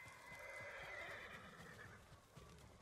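Horse in the video game Ghost of Tsushima giving a faint but clear neigh, with soft hoof clip-clops below it.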